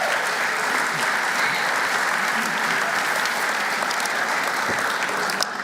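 A ceremony crowd gives dense, sustained applause welcoming Chancellor Ken Henderson to the stage at a Northeastern Athletics Hall of Fame induction, loud and steady throughout.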